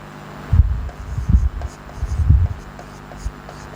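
Chalk or marker scratching and tapping on a board during a class 10 maths lesson, several short bursts of strokes close by in a quiet room, with no speech.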